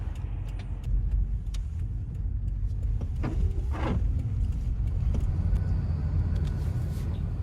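Pickup truck towing a small Scamp camper trailer on a highway during a snowstorm, with a continuous low road rumble and engine drone, a few passing whooshes in the middle.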